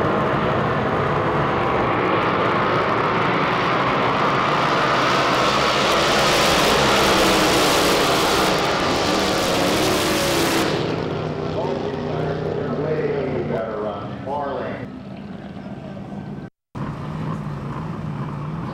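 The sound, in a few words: drag boat engines racing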